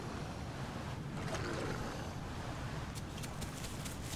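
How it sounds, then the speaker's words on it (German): Steady rushing water from a waterfall beside a lake in The Isle, a broad continuous roar with light wind noise, no voices. "Ich bin bei diesem Wasserfall da"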